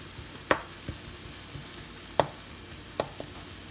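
Onions frying in oil until golden brown for a tuna roti filling, a faint steady sizzle broken by three sharp spatula scrapes against the pan, close by, with no voices.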